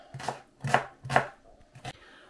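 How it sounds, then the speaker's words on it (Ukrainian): A knife chops vegetables on a board, four crisp strokes in an uneven rhythm, close and clear with no other sounds. "Спочатку наріжемо овочі."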